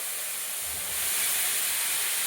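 Taro pieces drop into hot oil with fried spices and water, giving a loud, steady hiss that swells and holds close by, with no talking.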